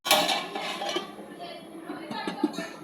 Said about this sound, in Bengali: জল দিয়ে দিলাম, এবার ঢাকা দিয়ে দেবো